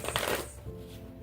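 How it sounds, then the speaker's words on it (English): A deck of tarot cards being shuffled close up, a papery riffling burst in the first half that trails off into quieter rustling. "we're just going to shuffle these cards"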